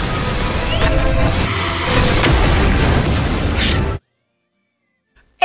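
A magic blast going off in the anime Kikansha no Mahou: a loud, dense roaring explosion with broadband rumble sustained for about four seconds, then cutting abruptly to silence.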